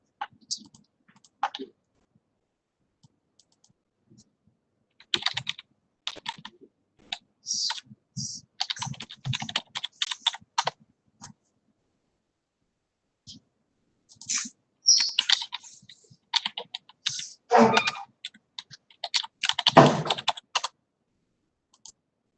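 Keys click on an enhanced InScript computer keyboard in scattered, irregular bursts of close typing separated by silent pauses, with denser runs of keystrokes toward the end.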